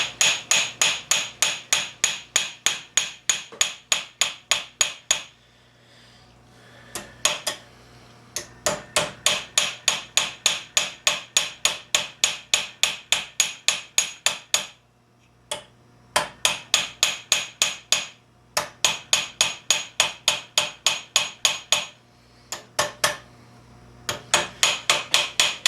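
A hammer strikes a steel thumb plate on a half ball stake while making Milanese mitten gauntlets, ringing out in fast, loud, evenly spaced close blows in several bursts separated by short pauses.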